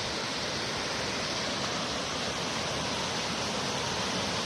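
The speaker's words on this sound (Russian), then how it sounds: "Речка Громотуха." Gromotukha river, a natural monument near Ust-Koksa, rushing steadily as a loud, dense, unbroken roar of flowing water with no voices.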